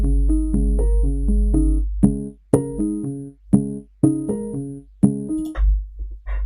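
Plinky synth notes made sharper with a transient shaper and no sidechain pump, programmed in FL Studio, play a choppy melodic pattern of short bright plucks over a steady low bass drone, with clean gaps and no ducking.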